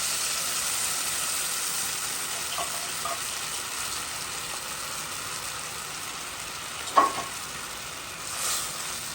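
Shrimp and bitter melon cook in a pan, giving a steady, gentle sizzle throughout with a soft clink partway through and a faint stirring scrape near the end.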